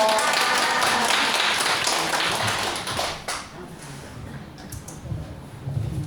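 Audience applause after a lecture on virtues of old age, a loud, dense clapping that fills the first three seconds then quickly thins out to scattered claps and room murmur.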